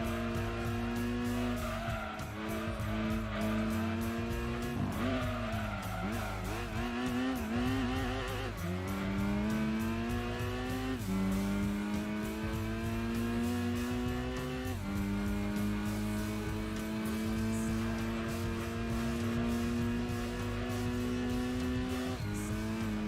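Front-wheel-drive Dodge Neon racing in Gran Turismo 2, its engine whining through rising gear pulls and shifts over about twenty seconds, with tire squeal and skidding mixed in and no talk.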